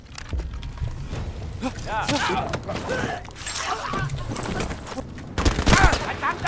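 Bursts of gunfire from a first-person shooter, Battlefield V campaign, rattle almost continuously in layered volleys with a heavy impact near the end, while someone talks over the shooting.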